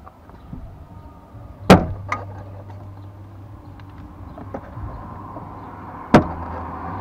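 Plastic retaining clips on a Toyota Corolla driver door trim panel snap loose as the panel is pried off, giving two sharp, loud pops several seconds apart over quiet background handling.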